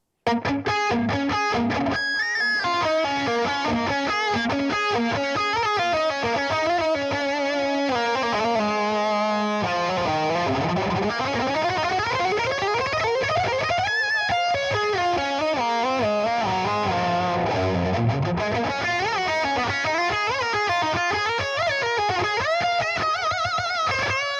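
A heavily distorted electric guitar through a 5150-style high-gain amp and 4x12 Vintage 30 cabinet plays an aggressive, sustained riff with gliding and bending notes, thick and saturated throughout with no voices.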